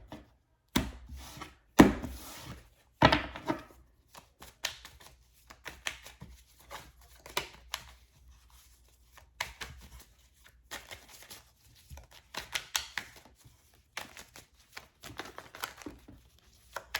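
Tarot cards being shuffled by hand in a quiet room: irregular bursts of soft riffling and slapping with short gaps between, close and fairly faint, no talking.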